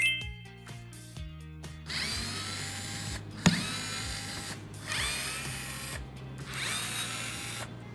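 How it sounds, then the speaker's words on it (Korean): A power screwdriver removes screws during a yoke steering wheel install on a Tesla Model Y, with short whirring bursts, clicks and a sharp knock, close and fairly quiet, with no talk. "이걸로 바로 작업해 볼게요. 나사들을 풀어주겠습니다."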